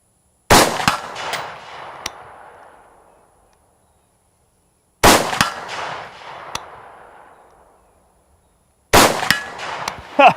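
Three loud, sharp rifle shots from a Robinson Armament XCR fired at targets outdoors, each crack ringing out into a long decaying echo, evenly spaced about four seconds apart with no talking.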